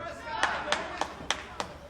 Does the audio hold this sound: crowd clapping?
yes